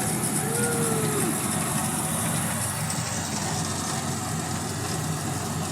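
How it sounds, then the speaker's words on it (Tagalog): Busy city highway traffic in Tacloban, Leyte, with many vehicles, as heard from a riding tricycle: a steady, dense rumble of idling and passing engines and road noise that stays loud and continuous throughout, with no clear individual pass-bys. "Dami ng sasakyan sa Tacloban."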